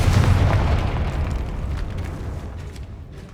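A fire-blast spell explodes in a magic-school action-adventure game, a loud close boom right at the start whose deep rumble stays heavy and then slowly fades out over a few seconds, with no speech over it.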